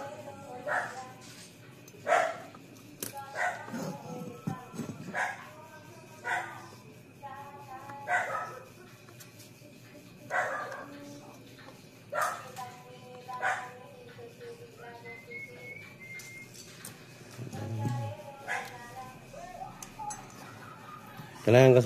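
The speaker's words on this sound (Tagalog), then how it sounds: "Ingay ng mga aso." Several dogs bark and yip in short irregular bursts, fairly near, mixed with scattered talk in a workshop where a Pioneer S-DJ50X active speaker with crackling, cutting-out sound is being repaired.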